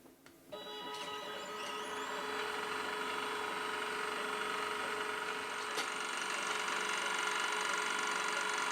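CNC pickup winder spinning wire at 1,200 RPM: after a couple of clicks it spools up into a steady, close mechanical whir with high tonal whine that holds constant for several seconds.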